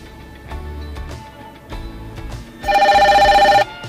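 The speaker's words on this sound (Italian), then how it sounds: "proviamo a, far, a ricevere una telefonata sto chiamando" A Dasaita PX6 car head unit plays an incoming-call ringtone: a loud, steady electronic ring that bursts in near the end and lasts about a second, after some quiet clicks and handling noises.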